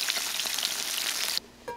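Silken tofu frying in hot oil over medium heat gives a steady, dense, close sizzle that cuts off abruptly near the end, leaving a brief faint spatter.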